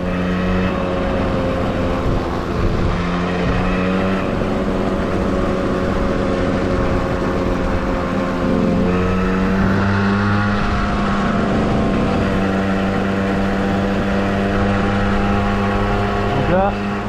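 A Lunaris2142 motorized rolling suitcase rolls downhill on pavement, its motor whirring steadily and loudly with shifting tonal pitch and constant rolling rumble throughout.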